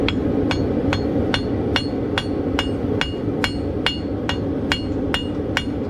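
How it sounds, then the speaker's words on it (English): A ball peen hammer strikes a horseshoe again and again at a steady, even pace, each sharp ringing metallic blow up close and clear over a constant low background noise. "You're also trying to hit in the same spot with your ball peen"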